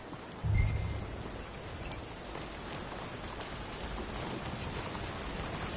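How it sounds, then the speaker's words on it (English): Steady, close rain falling and pattering on surfaces, opening with a short low thump before settling into a constant hiss of dense drops. "I don't like all this rain."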